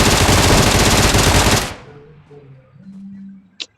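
Loud sustained burst of rapid automatic gunfire from a mobile shooting game, lasting about a second and a half before cutting off, followed by quieter game sounds and a brief high ping.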